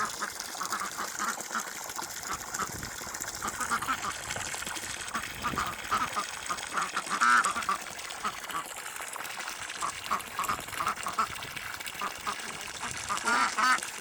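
A flock of domestic ducks, one drake and several females, quacks and chatters continuously outdoors on a cool evening, with a person talking intermittently over the busy, overlapping calls.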